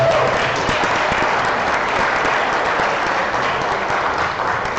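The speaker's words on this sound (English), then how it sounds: "one more round of applause for Jimmy." Dense, steady audience applause filling the room at a pitch event, continuous and loud throughout with no gaps.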